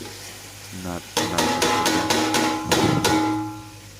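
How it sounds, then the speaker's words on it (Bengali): Fish and seeds fry together in oil, with a few loud scraping, clattering stir strokes over a soft sizzle nearby. "ভালো করে তেলের মধ্যে লাল লাল করে ফ্রাই করে ফেলবেন। তারপরে মাছ আর ওই ছাসনার বিচিগুলো একসাথে দিবেন।"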